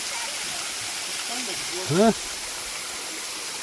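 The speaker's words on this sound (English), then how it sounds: "There's your waterfall." Kremiotis waterfall gives a steady broadband rush of falling water, constant throughout at moderate distance, with a brief voice speaking near the middle.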